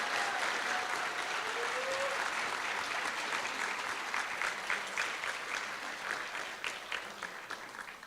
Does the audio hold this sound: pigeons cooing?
no